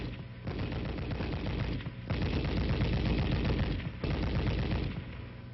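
An M73 7.62 mm machine gun fires in three sustained bursts of rapid automatic fire. The bursts are loud and close, with brief gaps between them.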